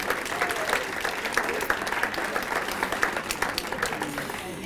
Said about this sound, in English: So a round of applause to Patrice.